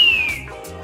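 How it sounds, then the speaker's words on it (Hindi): A toy whistle gives a single short, thin, high tone that slides slightly downward and fades within a fraction of a second. It sounds close and fairly loud over faint room noise. "बस एक सीटी बची है, अब सीटी बजाओ"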